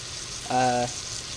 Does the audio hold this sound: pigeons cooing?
no